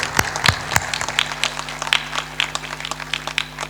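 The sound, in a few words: audience applause, clapping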